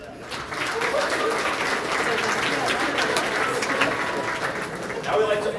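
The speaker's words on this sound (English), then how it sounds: "So give yourselves all a round of applause for that." Audience at a university athletics awards ceremony gives a sustained, full round of applause, dense even clapping filling the room from start to end, with some cheering voices mixed in.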